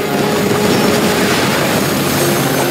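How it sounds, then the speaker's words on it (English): A helicopter in the shooter game Homefront, a loud, steady, close rotor and engine roar filling the whole moment without talk. "That chopper's coming back around!"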